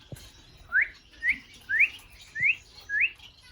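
A pet Bourke's parakeet in pink lemonade colouring chirps indoors, five short rising whistled tweets spaced evenly about half a second apart, close and clear, with no one talking.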